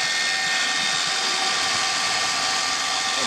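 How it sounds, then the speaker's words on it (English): A Kobalt XTR 24V Max 7-1/4" brushless cordless circular saw, model KXCS 124B-03, runs steadily with an even, airy whine that stays at one level, close and fairly loud. "It's surprising how quiet this saw actually is."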